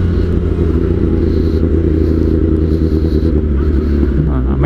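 A Kawasaki ZX10R 1000cc motorcycle engine rumbles loudly and continuously under throttle while riding at low speed, a deep steady roar close to the rider.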